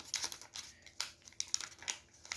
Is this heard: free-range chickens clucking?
no